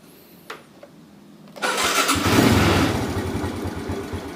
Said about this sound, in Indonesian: sekarang saya akan coba menyalakan menggunakan electric starter